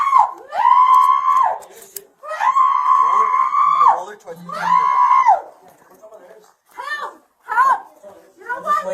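A woman screams loudly in long, sustained, high-pitched wails, three drawn-out cries in a row followed by shorter broken shouts, close and intense.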